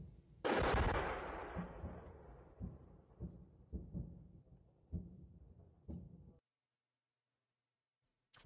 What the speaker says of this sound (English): We can hear the explosions to the left of the screen